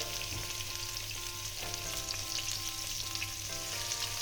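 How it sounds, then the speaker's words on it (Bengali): Rohu fish pieces frying in oil with salt and turmeric, a continuous close bubbling sizzle that stays steady throughout, no voices. "হলুদ দিয়ে আমি এবার এটাকে একটু ভেজে নেব"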